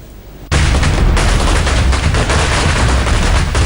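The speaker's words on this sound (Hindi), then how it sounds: "शाम होते ही दिल्ली में शुरू हो गया आतिशबाजी का सिलसिला" Diwali fireworks and firecrackers burst in Delhi. After a quiet moment, a loud, dense, continuous crackle of rapid overlapping bangs erupts and keeps going without pause.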